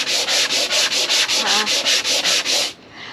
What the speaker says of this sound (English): Just sanding this whole bulkhead out.